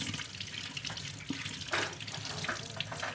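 A kitchen tap runs continuously close by while something is washed under it in the sink, with splashing as the water hits.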